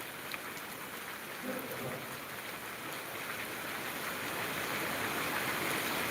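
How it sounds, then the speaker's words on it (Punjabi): Heavy monsoon rain in Kot Shamir village, Bathinda, Punjab, pours down in a dense, continuous roar that grows slightly louder toward the end, with no voices. "ਇੰਨਾ ਮੀਂਹ ਹੈ"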